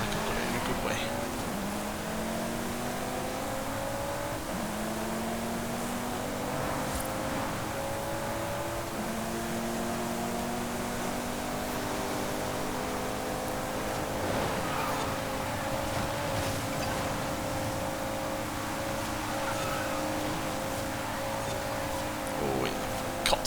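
A Cupra Formentor VZ5 races in A Class in Forza Horizon 5, its engine droning steadily with shifting harmonic tones that rise and settle through gear changes, close and continuous for the whole stretch.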